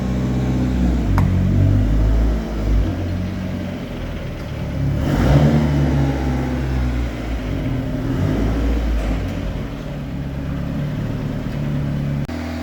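A Mitsubishi Galant VR4 engine runs on a dynamometer, a steady mid-pitched drone with low rumble that swells briefly around the middle, sustained and fairly loud throughout with no talking.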